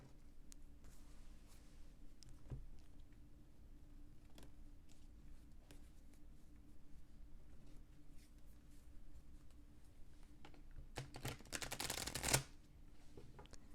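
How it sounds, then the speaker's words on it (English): Tarot cards riffle and slide softly, nearby and quiet, with scattered flicks before a louder, dense burst of shuffling near the end. "I'll do some shuffling of them this way"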